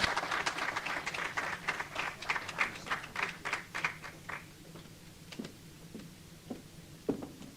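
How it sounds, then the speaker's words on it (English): Applause from a conference audience for Senegal's health minister at an official report launch, brisk and full at first, then thinning into scattered individual claps that trail off toward the end. "A round of applause for the Minister Ibrahim Massi"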